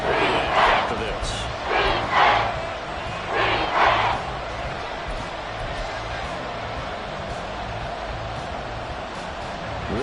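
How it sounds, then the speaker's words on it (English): Stadium crowd in an American football video game (Chiefs) roars in several swelling bursts early on, then settles into a steady background din of crowd noise. "This crowd doing all they can."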